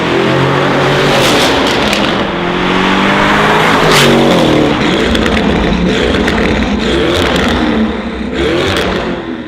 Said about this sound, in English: if you want to hear what this car sounds like with the Novitec exhaust system